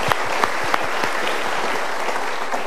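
An audience claps together in a sustained, even burst, many hands close and loud with a few sharper individual claps standing out, continuing without pause.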